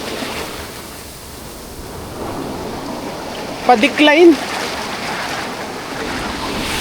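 Big ocean waves roll and crash along the shore at Dibut Beach, a steady broad surf wash running throughout while someone speaks briefly near the middle.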